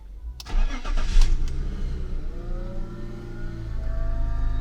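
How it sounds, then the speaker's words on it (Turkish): A BMW E39 530i cranks and fires up from cold, a brief starter whir then a catch into a rising rev that settles into a steady low idle, close and clear. "arabayı bir çalıştıralım"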